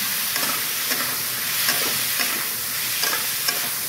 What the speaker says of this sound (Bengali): আলুটাকে একটুখানি ভেজে নেবো।